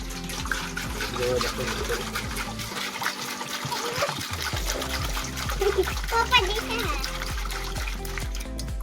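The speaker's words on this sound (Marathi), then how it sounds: "चला आता मस्त हा पाला धुवून घेऊ" Leafy greens for monsoon bhajji are washed by hand in water in a village home, with steady splashing and trickling that is briefly interrupted, under ongoing talk and a voice.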